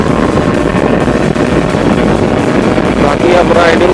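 A Yamaha RX 100 motorcycle with alloy wheels and a lengthened wheelbase, riding along with a loud, steady engine drone buried in heavy wind rush against the microphone.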